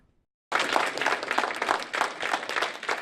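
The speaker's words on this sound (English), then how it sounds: "The applause from people picketing with posters in council chambers Wednesday night" Picketers holding posters applaud in a city council chamber, a dense steady wash of clapping that starts abruptly after a short silence and holds at an even level throughout.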